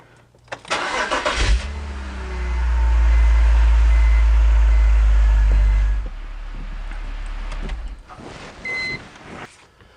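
BMW E46 330i cranks and catches, then settles into a loud, steady low rumble for several seconds before dropping to a quieter idle, with a short beep near the end.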